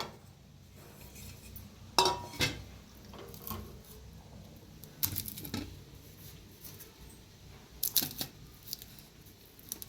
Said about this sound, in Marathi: सगळं सालपाट काढून घेऊया आता वांगी सोलून घेतलेले आहे